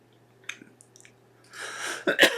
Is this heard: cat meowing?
no